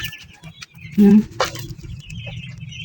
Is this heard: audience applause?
no